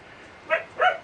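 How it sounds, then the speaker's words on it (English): Two quick dog barks, a short yappy pair spaced about a third of a second apart, heard at moderate distance in The Outer Worlds video game against a quiet background. "Alright, dogs are barking."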